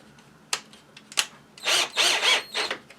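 Bolts being tightened by hand on a Bolens leaf blower engine during an engine swap: two sharp clicks, then a run of rapid ratcheting, metallic bursts, fairly close and alone.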